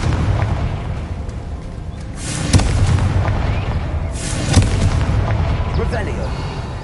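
Two fiery spell blasts from Hogwarts Legacy burst out loud at roughly even intervals, each a sharp crackling boom that fades over a steady bed of game ambience.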